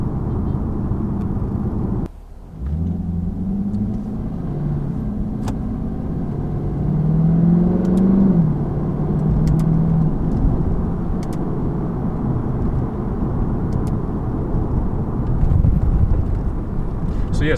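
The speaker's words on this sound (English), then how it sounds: "So the downshift sound and the upshift sound are a little bit different, but they have like this little click kind of" A V8 muscle car's engine rumbles deep and continuous, its pitch dipping and climbing as it revs through downshifts and upshifts, with a brief drop in level early on and no talking.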